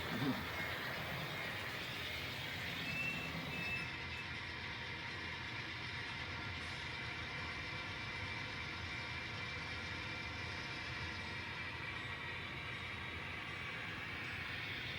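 A ScaleTrains GEVO model locomotive with an ESU sound decoder runs at full throttle, a steady droning diesel engine roar with faint mechanical rattle, sustained and fairly even throughout.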